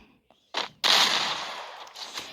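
Gunfire in a shooting video game: a short crack, then a louder sustained burst of shots that tails off with a few fainter follow-up pops.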